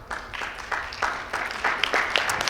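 Scattered, moderately loud clapping from an audience at a women's boxing summit, individual claps building into a short round of applause.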